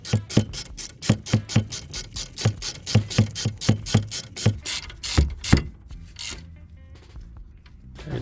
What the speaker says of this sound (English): we need to get the guide pin bolts in.